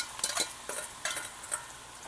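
Mustard seeds, cumin and turmeric tempering in hot oil, a bright close sizzle with quick stirring scrapes in short bursts, no voices.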